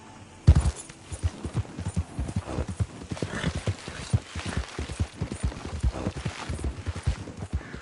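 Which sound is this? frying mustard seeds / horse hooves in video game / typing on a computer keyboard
horse hooves in video game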